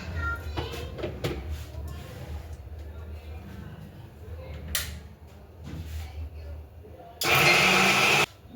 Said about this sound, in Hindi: इसको मैं पीस लूँगी अभी मिक्सी में।